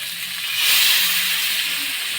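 Fresh masala-coated fish goes onto an oiled dosa pan and frying starts: a loud close hiss swells up quickly, then settles into a steady sizzle, with no speech.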